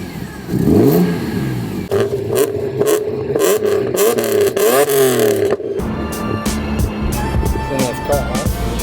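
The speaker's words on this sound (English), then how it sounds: "A little rev." A sports car engine revs repeatedly in short rising and falling bursts, loud and close at a car enthusiasts' anniversary party, with people chatting nearby and the engine settling to a rough idle near the end.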